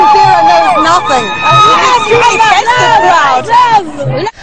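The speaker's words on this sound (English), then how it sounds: "A festive crowd." A festive crowd in Libya, with loud, close chanting and singing voices layered over general crowd hubbub, continuous throughout.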